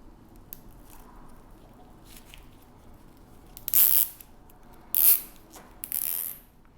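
A plastic zip tie ratchets tight around a bundle of flowers being fixed to a wheelchair, giving three short, bright zipping bursts close by after a quiet stretch of faint handling.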